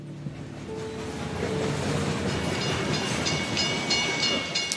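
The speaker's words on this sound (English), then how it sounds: "So he started traveling by train." A train rolls along the rails with a continuous loud rumble and rising rattle of the cars, joined later by faint metallic squeals and clicks, filling the whole stretch without pause.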